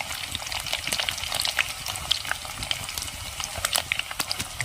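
Garlic frying in hot oil with fenugreek for a fish curry, a steady bright crackling sizzle with scattered sharp pops, close and continuous.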